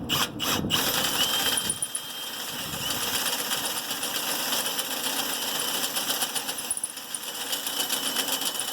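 A power drill runs steadily through metal on trailer equipment, a high-pitched whine with a grinding rattle, preceded by a few sharp bursts at the start; no voices.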